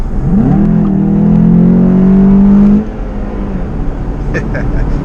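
A modified 2019 Volkswagen Jetta GLI 35th Anniversary accelerates hard in a pull, its engine note rising steadily and loudly for several seconds before dropping off as the throttle lifts. Heard from inside the car, with road noise continuing afterward.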